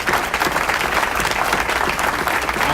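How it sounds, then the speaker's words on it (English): An audience at a community breakfast breaks into loud, sustained applause for a parks and recreation superintendent, a thick, steady burst of many hands clapping close by. "Let's give him a round of applause."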